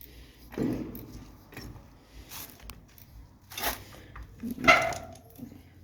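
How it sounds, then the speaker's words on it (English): Year-old half shepherd, half husky dog giving a few short, separate barks and snorts at close range, spaced over several seconds in an otherwise quiet room. "Dog curious. Got a new dog, he's a year old. She, half shepherd, half husky."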